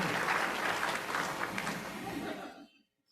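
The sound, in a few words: audience applause at meeting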